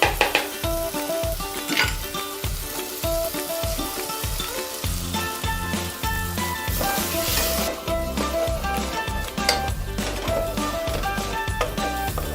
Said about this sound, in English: Now I'm gonna add in the eggs.